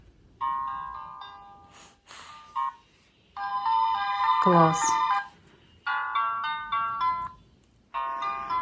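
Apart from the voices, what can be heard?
baby toy playing electronic melodies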